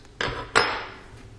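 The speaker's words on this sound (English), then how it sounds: "And you can remove the charging handle." An AR-15 rifle's charging handle being removed gives two close, sharp metallic clicks a fraction of a second apart, each with a short ringing decay in otherwise quiet surroundings.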